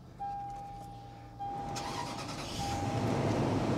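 A Toyota Tundra at a Copart salvage yard cranks and its engine catches, settling into a steady running rumble that grows slightly louder, with a faint whine and no talking.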